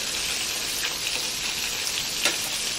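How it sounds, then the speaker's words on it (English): Fried deviled eggs and shrimp sizzle in hot oil, a dense continuous crackling hiss heard close, with a few louder pops and no voices. "I'm just flipping over the eggs so the inside can get crispy."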